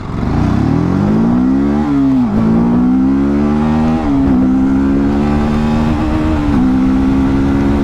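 Honda CB300R or TVS Apache RTR 310 motorcycle accelerating hard through the gears in an acceleration test, a loud, steady engine roar climbing in pitch with brief dips at each shift, close and continuous with no talk.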